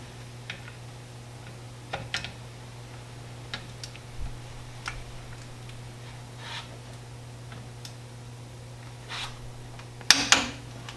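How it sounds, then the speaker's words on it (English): A Crescent wrench tightens the brake caliper bolts on a 2007 Chevy 3500 Duramax, giving sparse, sharp metallic clicks and ratchety taps spaced irregularly over a steady low hum, ending in a louder clank. "So we'll take our little Crescent and get those torqued"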